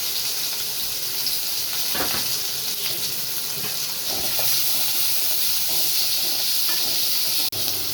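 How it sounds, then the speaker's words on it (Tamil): Small onions and curry leaves frying in hot oil for a goat trotter curry, a steady, loud, close sizzle and hiss with occasional soft stirring knocks and one sharp click near the end. "சின்ன வெங்காயம் ஒரு 150 கிராம் போட்டுக்கலாம். கருவேப்பிலை கொஞ்சம் போட்டுக்கலாம்."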